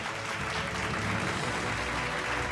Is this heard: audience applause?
yes